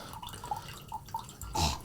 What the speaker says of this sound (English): So we're pouring some excess blood from the skull